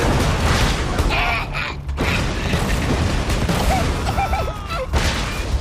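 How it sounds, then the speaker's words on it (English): Rapid bursts of exploding-bullet gunfire and crunchy explosions in Borderlands 2 pile up in a dense, loud barrage with brief gaps between volleys. "Explosions, explosions, explosions, explosions! They explode. Exploding bullets."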